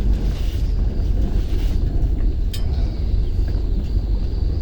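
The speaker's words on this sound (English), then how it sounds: "The wind's picking up." Strong wind blowing over a marsh while out on a boat, a steady, loud rumbling gust buffeting the microphone throughout, with no talk.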